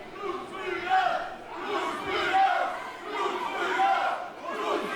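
A wrestling crowd of Blutsbrüder fans at a GWF Showdown show chants and cheers in rolling waves, a dense roar of many voices rising and falling across the arena.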